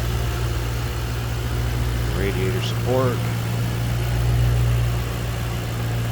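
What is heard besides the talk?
Ford Mustang V8 engine idling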